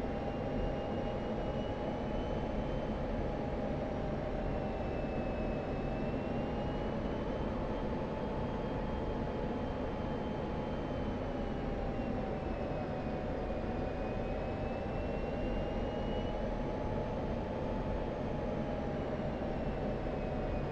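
The F-16C Viper's jet engine in DCS World roars as a steady, dense, continuous drone with a faint wavering whine on top, loud and unbroken for twenty seconds.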